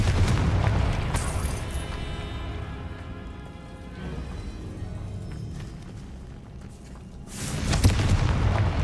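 A Confringo fire spell explodes in the Hogwarts Legacy video game, producing loud booming blasts with a sustained roaring rumble, one burst early and another near the end.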